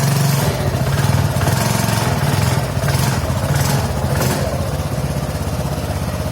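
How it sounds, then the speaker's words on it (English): TVS XL-100 Heavy Duty BS6 2020 moped engine idling through its silencer exhaust, a close steady low putter with rhythmic pulsing and a few slight rises in revs, with no talking. "So here is the engine sound,"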